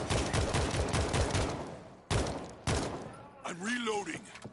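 Rapid bursts of automatic gunfire from a zombie survival video game crackle densely up close, cut by two short pauses, before a voice briefly speaks at the end.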